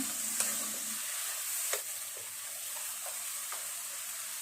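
Shrimp, vegetables and seasonings stir-fried in a pan make a steady sizzling hiss with occasional faint clicks and taps of a utensil, fairly quiet and continuous.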